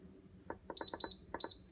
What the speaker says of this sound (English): I'm going to hit pressure cook, keep warm off.